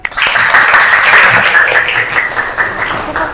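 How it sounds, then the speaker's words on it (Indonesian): Students in an SMK vocational school class burst into loud, dense applause that carries steadily for several seconds, a few voices faintly audible underneath before it starts to thin out. "Luar biasa, tepuk tangan dulu."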